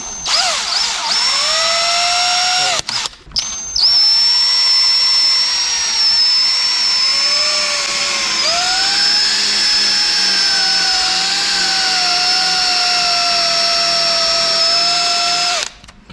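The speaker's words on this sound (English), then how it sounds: "So get yourself a good place to start drilling it" A power drill with a 1/8 inch bit whines at high pitch while drilling a hole during LS swap prep on a junkyard vehicle, with a brief stop and restart early on, then a long steady run that ends abruptly.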